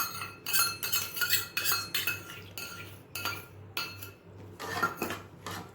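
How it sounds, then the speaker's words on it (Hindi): Fenugreek and oil batter beaten in a bowl, heard as rapid, rhythmic clinks and scrapes of a utensil against the bowl, close and fairly loud, in repeated bursts with short pauses. "और इन सभी चीज़ों को बहुत अच्छे से मिक्स कर लेना है।"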